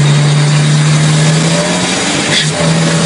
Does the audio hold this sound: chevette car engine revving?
yes